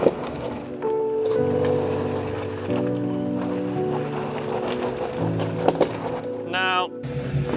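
A Toyota Tacoma straining to climb off-road with its wheels spinning: the engine drones and revs in shifting low tones beneath steady wind-like rushing, and someone talks over it throughout.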